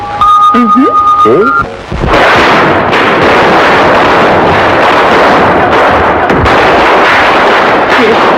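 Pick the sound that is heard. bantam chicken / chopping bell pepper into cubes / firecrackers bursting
firecrackers bursting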